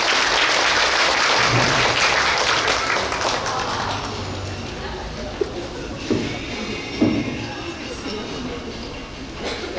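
Audience applause greets a poetry reader at a May 18 uprising memorial cultural event in Suncheon, a full round of clapping that fades after about four seconds, leaving sparse taps and a voice.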